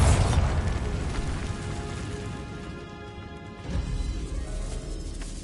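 Bombarda blasting spell in Hogwarts Legacy: a heavy crashing explosion at the start, rumbling debris as it decays, then a second blast hitting about three and a half seconds later.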